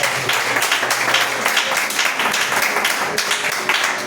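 Applause during a church sermon, a steady wash of many hands clapping at moderate distance that continues for a few seconds without a break.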